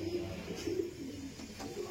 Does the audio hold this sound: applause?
no